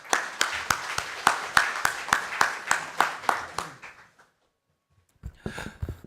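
About a dozen slow, evenly spaced claps ring out in a large hall at a National Assembly policy seminar as a party policy chief is welcomed to speak. A short silence follows, then a brief burst of lighter clapping.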